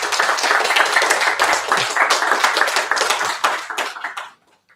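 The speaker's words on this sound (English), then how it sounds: "please give another big round of applause for Kai" Dense, steady applause for the presenter Kai after a talk on pattern matching in Java, many hands clapping continuously at close range before stopping abruptly into silence.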